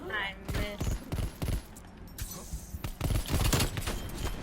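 Magnum pistol gunshots in a video game custom match, rapid irregular bursts of sharp shots and clatter, loud and close, with a voice speaking over the gunfire.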